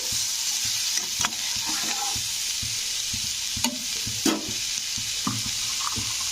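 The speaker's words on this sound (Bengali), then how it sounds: "প্রতিটা সবজি কিন্তু একটু নেড়ে দিতে হবে মানে পেঁয়াজের সঙ্গে একটু কষে নিতে হবে ভালো করে" Mixed vegetables being stir-fried with onion in a pan for Kerala-style veg cutlets, a continuous bright sizzle with periodic scraping and knocking of a spoon against the pan, close and steady, no one speaking.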